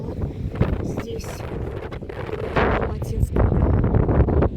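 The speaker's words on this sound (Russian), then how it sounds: "На улице дождь. Накрапывает. И очень сильный ветер." Strong stormy wind buffets the microphone outdoors under light drizzle, loud gusty rumbling that rises and falls over a few seconds, with a voice speaking over it.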